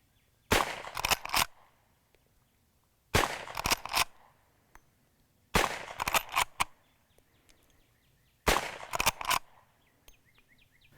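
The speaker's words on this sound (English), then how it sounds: "But it is not hard to rapid fire this firearm." Rapid shots from a Rossi Model 92 .357 lever-action rifle, a Winchester 1892 reproduction, fired outdoors in four quick bursts of three to four sharp cracks each, with short quiet gaps between bursts and faint birdsong in the background.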